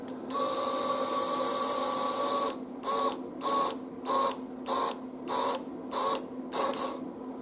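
A BadlanzHPE electric exhaust cutout's motor and gearbox whine steadily for a couple of seconds, then run in a series of short, even bursts, a high buzzing mechanical drone heard up close with no talk.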